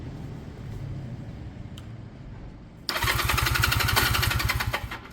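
After a starter solenoid fix, a motorcycle engine cranks quietly for a few seconds and then catches, settling into a loud, close, steady idle with an even throbbing pulse, and no talk.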